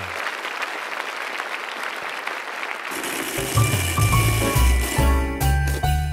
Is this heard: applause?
yes